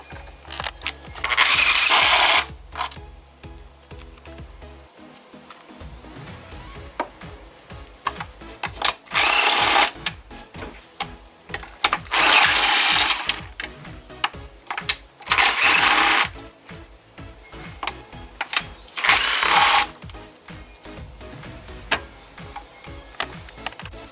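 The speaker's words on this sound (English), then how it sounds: "Now 12 millimeter deep socket is very convenient with extension, and we will need to remove a few bolts." Engine bolts on a Kia Forte or Soul 1.8/2.0 Nu engine removed with a ratchet, 12 mm deep socket and extension during a cylinder head gasket job: five short, loud bursts of rapid ratcheting separated by quieter clinks and handling noise.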